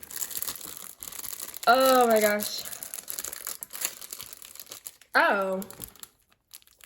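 Plastic wrapping on a F.A.N.C.Y Classic makeup kit crinkles and tears in steady bursts of rustling, close up, while a person speaks and gasps over the handling.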